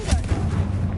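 Confringo fire spell exploding in the Hogwarts Legacy video game: a loud, dense blast of booming, crackling noise that rolls on steadily without a break.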